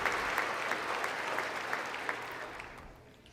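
Dense applause from the audience at a State of the Union address, a continuous wash of many hands clapping that gradually fades out near the end.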